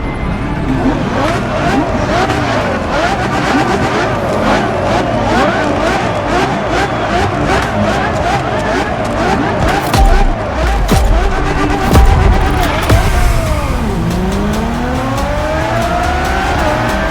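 A Ferrari Enzo supercar in the video game The Crew Motorfest roars continuously with rising and falling engine revs, gear shifts and a brief tire squeal, loud and close throughout.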